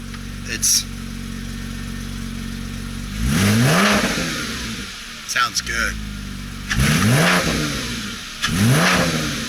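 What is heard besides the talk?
Porsche engine revving with newly done exhaust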